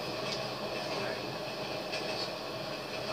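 A train rolling past in the video game GTA 5, a steady broad rumble that holds at an even loudness throughout, with faint higher rail hiss and no words spoken over it.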